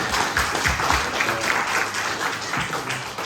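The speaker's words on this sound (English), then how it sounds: "So let's have a round of applause for him" Audience at a book interview event applauding a record producer, a brief burst of close, lively clapping from a modest crowd.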